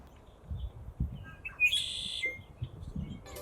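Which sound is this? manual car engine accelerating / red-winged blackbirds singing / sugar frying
red-winged blackbirds singing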